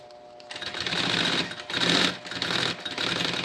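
A sewing machine backstitches elastic onto a backpack, with close, loud bursts of rapid mechanical stitching broken by short pauses.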